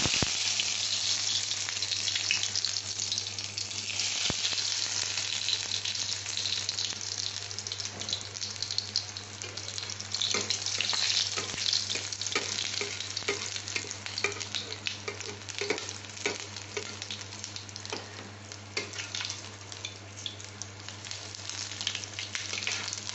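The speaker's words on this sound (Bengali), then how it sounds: "বন্ধুরা, আমি তো কড়াইতে তেল দিয়ে দিয়েছি। ওই চপগুলো তো 10 মিনিট আমি ফ্রিজে রেখেছি, তারপরে আমি এই ভাজতে দিচ্ছি।" Cheesy potato chops frying in oil in a wok, a constant loud, hissing sizzle with scattered crackling pops throughout, no talking.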